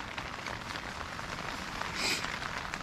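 Heavy rain falls during a camping trip in Jammu and Kashmir amid snow, a dense, steady hiss of drops on surfaces, moderately close, with a slightly louder swell near the end.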